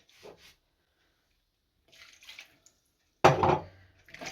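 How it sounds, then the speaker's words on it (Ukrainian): Water runs from a tap in short bursts, splashing briefly, pausing, then gushing louder near the end as hands are wetted. "Руки треба мочити водою."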